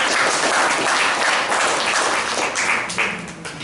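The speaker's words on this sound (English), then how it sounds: "Let's all give them a good round of applause." Members of a speaking club meeting applaud after a speaker's introduction, a full, even patter of many hands clapping nearby, thinning slightly in the final second.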